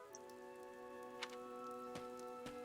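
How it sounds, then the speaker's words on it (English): Steady rain in the video game Fire Emblem: Three Houses, a quiet, even patter with a few faint drop ticks under sustained soft musical tones. "This rain threatens a coming storm."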